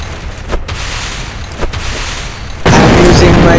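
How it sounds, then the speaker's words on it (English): Grenades going off in the dinosaur hunting game Real Dino Deadly Hunt 3D, a few dull booms over steady game noise, then a loud sustained roar of blast and debris near the end. "I'm using my grenades to kill these dinosaurs."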